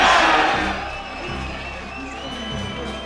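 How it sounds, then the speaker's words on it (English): Darts crowd at the Circus Tavern during the 2009 Players Championship cheering and applauding, loud at first and then settling into a steady roar of voices and claps. "now the crowd are on their feet, now the Circus Tavern's rocking again."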